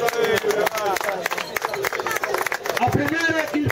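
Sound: applause for the award ceremony team

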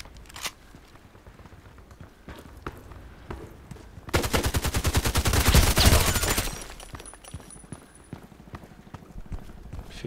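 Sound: gunfire in the video game Contract Wars

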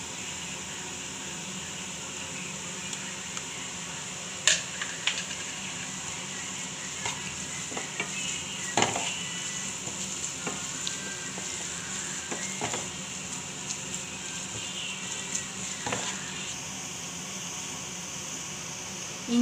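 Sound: ginger garlic paste sautéing in a pan

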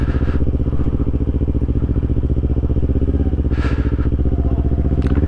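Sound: motorcycle riding in traffic in Japan

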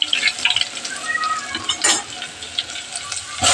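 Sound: garlic frying in hot oil for pav bhaji tempering

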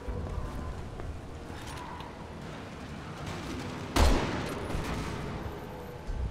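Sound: explosion from dynamite in a video game

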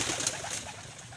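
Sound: released pigeons flying from loft

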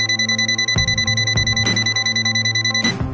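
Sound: multimeter quick beep

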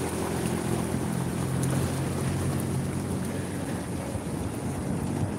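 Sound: ocean waves at Pangandaran beach

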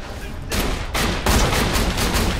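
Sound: shotgun fire in the video game Borderlands 2

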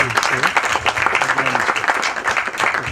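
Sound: audience applause at film trailer launch

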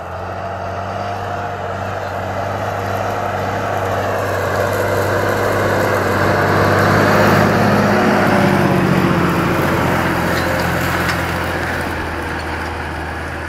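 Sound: Fendt tractor driving in the field while disc harrowing

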